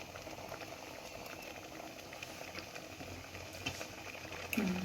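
Jackfruit seed and mango curry bubbling steadily in a pot, a close, constant simmering crackle with a brief clink near the end.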